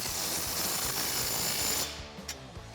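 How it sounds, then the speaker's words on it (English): A rapid mechanical rattle of a ratchet or power tool turning a 15mm socket on a Jeep Wrangler JL exhaust clamp, steady and close, stopping abruptly with a few clanks after. "Next, we can tighten down the clamp that's holding on our resonator piping to our over axle piping"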